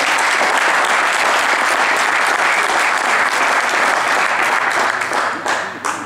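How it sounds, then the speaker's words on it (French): Audience applause at a hunting hound pack competition, a dense, steady ovation from a large crowd filling the whole stretch and thinning slightly near the end. "On peut les applaudir."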